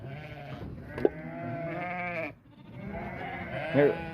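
Sheep bleat loudly and close by, long wavering calls from a flock of ewes and lambs, one after another, with a short pause between them.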